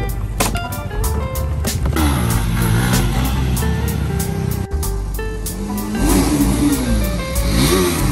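A TVS Apache RR310 motorcycle being ridden at speed, its engine note rising and falling through gear changes with steady loud wind and road roar, close to the rider, no talking.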